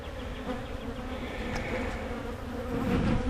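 Swarm of honeybees buzzing around an opened hive, a dense steady hum close by that swells slightly louder toward the end.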